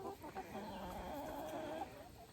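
Hens clucking and murmuring together inside a backyard chicken coop, a soft continuous chatter of low calls heard from close by, quiet and without speech.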